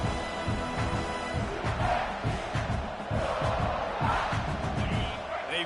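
Football stadium crowd roaring and cheering as the home side pins Vanderbilt deep in its own end, a loud sustained swell of many voices with rhythmic pulses and whoops.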